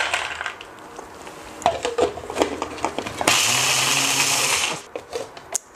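A countertop blender grinds ground almonds and other ingredients for a homemade sweet spread, starting after some nearby clatter with a loud, steady whir that lasts about a second and a half and then cuts off.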